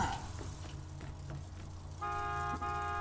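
Vehicle horn in the game Borderlands 2, a steady tonal honk that starts partway through and holds, briefly dipping, over a low engine rumble with faint clicks earlier on.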